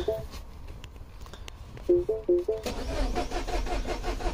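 A 2012 Mini Cooper 1.6L manual with a crank-no-start fault, its starter whirring in a short burst of pulsing cranking before a steady engine-like drone takes over, close and moderately loud with no speech.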